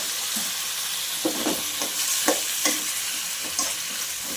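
Tomato chutney with ginger and garlic is stirred in a pan, a soft continuous sizzle broken by scraping strokes of the spoon, close by and with no talk.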